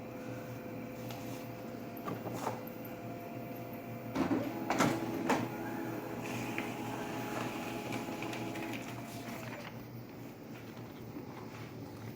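An office printer runs through a forwarding letter printout, with a steady mechanical hum, a few sharp clunks and rattles partway through, and then it goes quiet near the end, recorded indoors at close range.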